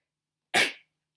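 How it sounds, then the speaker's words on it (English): A single short, sharp sneeze bursts out of silence during a lecture, loud and close, lasting under a second. "Sneeze."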